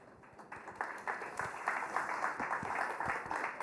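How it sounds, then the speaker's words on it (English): Faint applause from a conference keynote audience at Pocket Gamer Connects San Francisco 2015, a soft, steady patter of many hands clapping that builds a little and continues. "Round of applause, please, to Chris."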